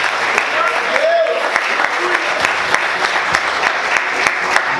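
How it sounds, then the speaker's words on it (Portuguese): A church congregation applauds more strongly, with dense, rhythmic clapping that stays loud and steady throughout, backed by a faint wash of voices and music. "Aplaude o Senhor mais forte."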